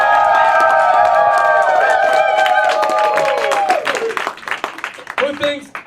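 Studio audience at a comedy show voting for a winner by applause, with cheering and clapping building over sustained tonal sound, then fading into scattered claps and shouts near the end.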